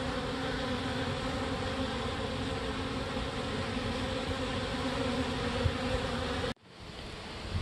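Honey bee swarm buzzing outdoors near a bush, a dense, continuous hum of many bees, steady and close, cutting off abruptly near the end before resuming.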